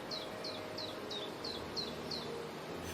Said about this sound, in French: C'est pourquoi vous entendez les oiseaux gazouiller mélodieusement pour exprimer leur louange et leur adoration à Dieu.